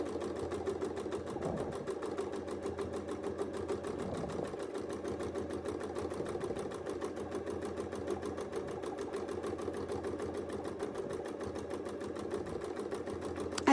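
A sewing machine hums continuously at close range during free motion quilting on a Kit and Caboodle project, with a fast, even needle rhythm and faint periodic shifts as the fabric is moved.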